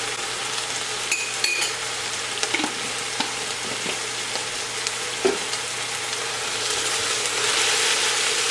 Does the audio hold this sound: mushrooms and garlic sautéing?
yes